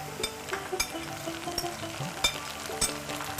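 Prawns and fish fry in a pan as spices go in, giving a steady sizzle broken by sharp clicks and scrapes of stirring.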